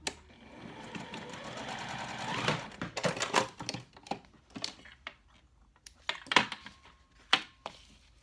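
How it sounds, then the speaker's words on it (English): Sewing machine stitching vinyl wallet pieces, a steady mechanical whir running for a few seconds, then short stop-start bursts of stitching, close and fairly quiet. "I am going to just sew these together so that I can create that last card pocket."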